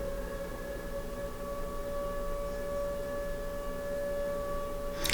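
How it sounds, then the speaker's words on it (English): A civil defense siren wails steadily and loudly throughout, its sustained tone holding level over a constant background rumble, with a brief burst of noise at the very end. "I'm thinking about the siren."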